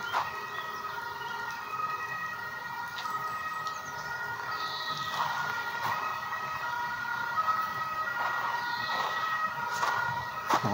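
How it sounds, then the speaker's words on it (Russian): An emergency siren wails in the distance, faint and steady beneath a broad wash of outdoor street noise. "Где-то скорая или полицейский."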